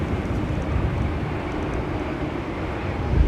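An Aer Lingus ATR 72 turboprop at Manchester Airport gives off a steady, fairly loud broadband engine roar that holds even for a few seconds with no speech over it.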